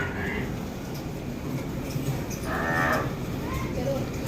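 Murrah buffalo, a large Haryana-type animal giving 9 litres of milk, mooing in low drawn-out calls, a longer one in the middle, over steady outdoor background noise.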